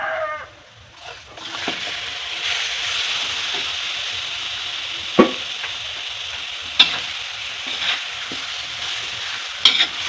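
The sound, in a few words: marinated chicken frying in a pan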